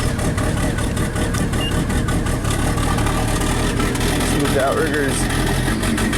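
A JLG lift's engine idles loud and steady at close range with a constant low rumble, while someone talks over it.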